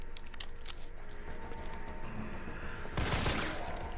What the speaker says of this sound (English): Let's try out this new gun.